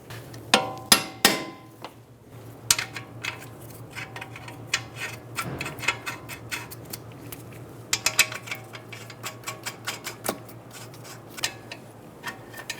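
Ratcheting and metallic clicks from a bolt being tightened on a front strut assembly of a 2007-2011 Toyota Camry, coming in quick bursts of close, sharp ticks over a steady low hum, with no talking.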